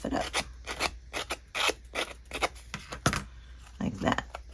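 Scissors blades scrape and rub along the edges of a paper junk journal tag, roughing them up in a quick series of short rasping strokes up close, with a voice talking over them.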